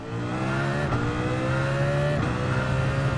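Race car engine in a racing video game at Monza, a Nissan driven loose, holding a loud, steady high drone throughout with a brief dip in pitch near the one-second mark, no talking.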